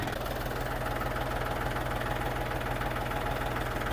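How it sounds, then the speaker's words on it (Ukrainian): Xingtai 244 tractor with a KM385 engine running its power take-off shaft, a steady close mechanical drone with constant low rumble and even vibration throughout, no talking. "Робота валу відбору потужності."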